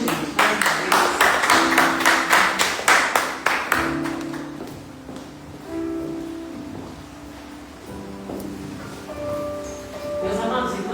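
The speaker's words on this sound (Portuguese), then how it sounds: "Aplauda Jesus, gente, mais uma vez" A church congregation claps in a fast, even rhythm for several seconds, then the clapping fades out and sustained musical tones continue at a softer level.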